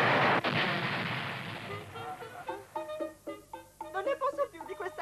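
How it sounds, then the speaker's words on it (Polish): A loud cartoon explosion from a Yattaman anime episode bursts at the start, a booming blast that decays into rumble before tonal musical stings take over. "Wybuchnie!"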